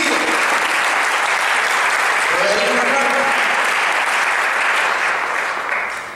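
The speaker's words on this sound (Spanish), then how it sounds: "Dale ese aplauso a Jesucristo," A church congregation applauds during a Spanish-language worship service. The dense, steady clapping holds loud for about six seconds and then begins to fade, with faint voices and a sustained tone mixed in beneath it.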